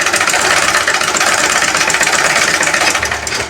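A sewing machine runs a straight half-inch seam, its motor whirring loud and steady with a fast, even mechanical chatter that never lets up.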